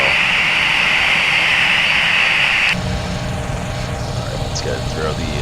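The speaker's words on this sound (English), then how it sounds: "good start on the right engine as well" A Boeing 737 jet engine in FSX runs up with a loud steady whine and roar, the high tone cutting off midway into a lower rumbling spool with faint clicks.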